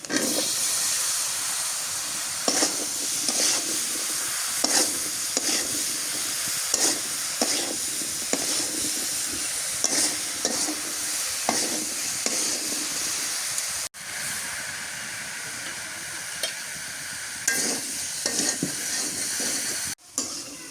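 Okra stir-fried in a pan with onion-garlic paste and cooked-down spices, a continuous hiss of frying broken by repeated spatula scrapes and stirs, close and loud, with two brief dropouts and no talk.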